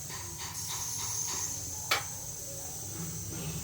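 Whole spices, cloves, star anise, cardamom, bay leaf and cumin, temper in hot oil for chicken curry, giving a faint, steady sizzling hiss with a few light ticks and one sharper pop.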